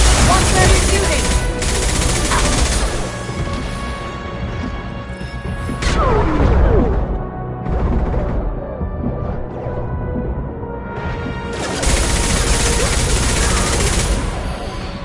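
Sustained bursts of gunfire in the video game Mass Effect 2 during a gunship fight, loud and dense with crashing impacts and intermittent bursts running throughout, mixed with game music and effects.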